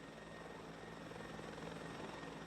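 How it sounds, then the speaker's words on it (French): Helicopter carrying seriously injured people from the debris of a collapsed viaduct in Genoa, a steady continuous rotor and engine drone with no voices. "des blessés graves sont transportés par hélicoptère vers l'hôpital le plus proche"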